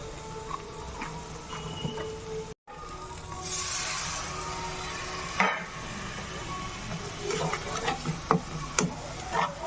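Chilli powder and tadka masala sizzle in a hot pan on a home stove, a steady frying hiss with a spatula scraping and stirring and scattered small clicks and taps.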